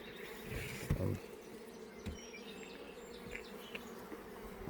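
Honeybees in a strong, packed-out colony chosen to finish queen cells fill the air with a steady, dense close-up hum, broken by a couple of brief knocks.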